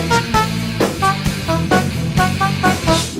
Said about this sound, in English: the forward-facing sonar guys think their sonar sounds like this.